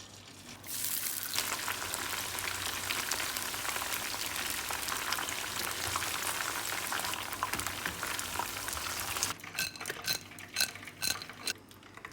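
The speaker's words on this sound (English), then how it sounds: "Fry again." Battered chicken tenderloin fries in hot oil, a dense, steady sizzle and crackle that lasts throughout and turns into more broken, popping bursts near the end.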